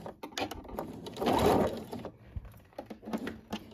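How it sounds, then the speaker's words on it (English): A sewing machine stitches through three layers, folded lining, top lining and outer fabric, on a lined glasses case. Quiet, uneven mechanical whirring and light clicking come close by and swell briefly in the middle. "we're stitching through 3 layers, okay? That folded piece of lining, the top piece of lining, and the outer fabric as well"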